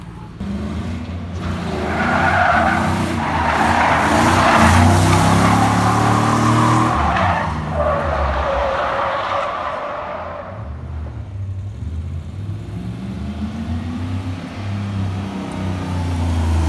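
A 333 WHP Mitsubishi Evo 9 MR slides sideways with a tire low on air, its engine roaring and tires scrubbing loudly and close for several seconds before the drone eases back.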